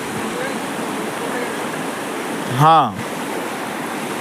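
River water flowing in a steady, broad rushing wash close by, with a single short spoken word breaking in briefly partway through.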